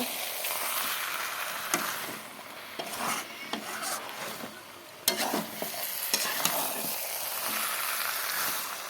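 Chicken curry in a pan sizzles steadily while a utensil stirs and scrapes against the pot, with clinks and a sharp knock midway, then the frying hiss continues loud and close without talk.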